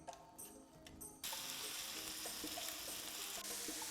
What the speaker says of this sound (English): we're gonna take our 1 pound of ground beef and we're gonna fry it up in the pan at medium heat